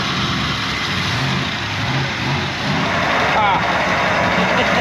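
Camaro engine running steadily in a dense, rumbling idle with a slight rise in the middle, and voices talking over it throughout.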